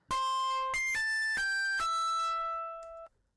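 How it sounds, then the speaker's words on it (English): A harshly distorted, buzzy plucked melody of five descending notes through Soundtoys Decapitator on punish mode, thick and saturated, the last one sustaining before cutting off abruptly. "we had Sound Toys Decapitator on the punish mode, making it sound like this"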